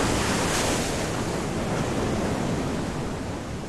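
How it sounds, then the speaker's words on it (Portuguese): Hurricane wind roars with crashing surf, a dense, loud, unbroken rush of wind and waves that holds steady throughout with no voices. "Um furacão."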